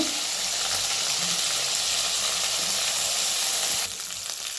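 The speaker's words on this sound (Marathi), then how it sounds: "आता बघा तेल आपलं चांगलं गरम झालंय त्यात टाकूया आपण बारीक केलेला मसाला" Finely ground spice masala hitting hot oil for a soybean curry, a dense continuous sizzle and hiss that drops slightly in level near the end, with no talking.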